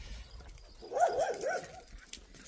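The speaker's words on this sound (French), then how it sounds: "Et les chiens partout." A dog yelps and whines in a short, high run of three or four cries, moderately close, near a camp on the Camino de Compostela pilgrimage route.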